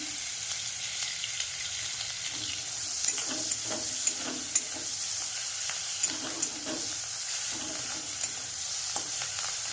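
Oil frying in a pan with chilli powder while making begun fritters, a continuous moderate sizzle broken by a series of sharp spatula scrapes and taps from stirring.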